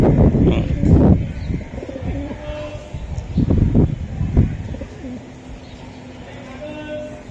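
Racing pigeons coo in low, throaty bursts close by at a pigeon farm, mixed with rustling and background voices.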